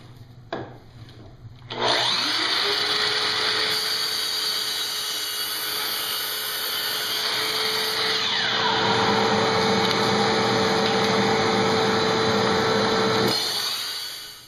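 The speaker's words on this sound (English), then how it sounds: "Let me go through and make the same 10 cuts with this" A miter saw with a dust collector attached spins up and cuts through wood, a loud sustained motor whine over roaring suction, with the pitch dropping under load midway before the saw winds down.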